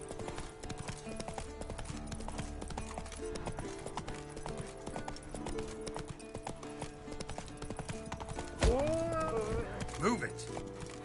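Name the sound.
horse Roach galloping in video game The Witcher 3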